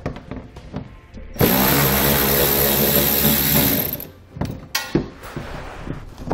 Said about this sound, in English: on the inside of our wheel well, we're going to need to remove 3 bolts using an 8mm socket